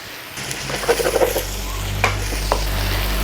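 A grass-fed ribeye steak sears in a pan, a low steady sizzle with a few quick scraping taps early on, close and moderately loud.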